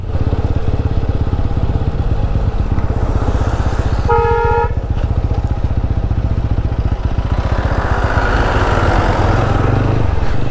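A vehicle on a Himalayan mountain road gives one short, loud honk midway, over a constant close motorcycle engine drone and wind rush, with the engine rising again toward the end.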